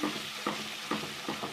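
Garlic-ginger paste frying with browned onions in a pot for Lahori chickpeas sizzles steadily, with a spoon scraping through it in regular strokes roughly every half second.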